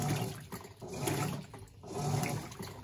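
Water sloshing and churning inside an Electrolux Blue Touch 12 kg LB12Q washing machine agitating bath towels during a rinse, a steady swishing that surges in waves every second or so, close and continuous.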